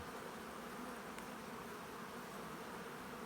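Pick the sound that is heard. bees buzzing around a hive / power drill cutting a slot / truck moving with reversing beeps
bees buzzing around a hive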